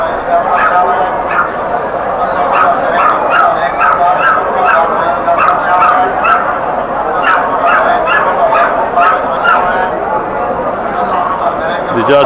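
Chickens cluck and call repeatedly at a busy pet market, loud and close, with a vendor talking over them.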